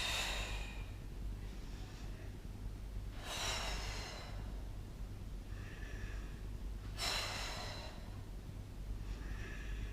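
Slow, deliberate breaths during an exercise routine, two long audible exhales spaced a few seconds apart over a low steady hum, with softer breathing in between.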